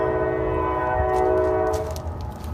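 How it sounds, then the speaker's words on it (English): A loud train passing near a suburban home yard: a heavy, sustained rumble with steady tonal horn-like droning, close and dominant, easing slightly toward the end. "this train's loud"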